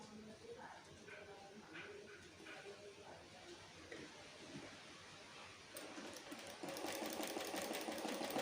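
A sewing machine stitches fabric for a size 34 bra, a faint steady mechanical whir that grows louder and busier toward the end, with a voice talking quietly underneath.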